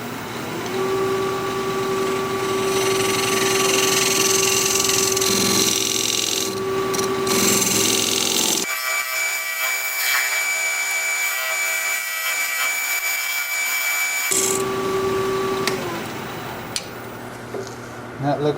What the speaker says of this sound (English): I'm going to use my recess tool to put a dovetail on the side here.